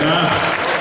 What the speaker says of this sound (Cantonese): 咁樣掌聲 Williams 啊！